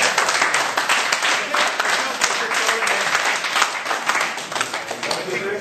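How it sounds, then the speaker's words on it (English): Dense, steady applause from an audience at the official closing of a creative industry event, sustained at close range throughout with a busy crackle of many hands and no break. "One round of applause for Vaibhav Patil also, right, who actually is the rocket man."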